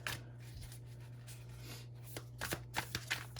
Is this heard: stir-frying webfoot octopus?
no